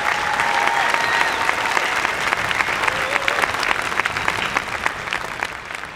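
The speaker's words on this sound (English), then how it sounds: "Let's give them another round of applause for this wonderful accomplishment." A large university commencement audience applauds the graduates in a dense, sustained roar of clapping that stays loud and steady for several seconds, then eases slightly near the end.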